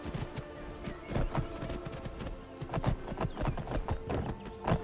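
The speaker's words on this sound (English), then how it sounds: "I wasn't expecting my horse to follow me this way." A horse in the video game Skyrim clip-clops steadily along with a brisk, uneven rhythm of hoof strikes, fairly close, with no talk over it.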